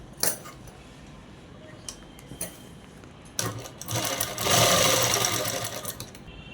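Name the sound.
sewing machine stitching dress fabric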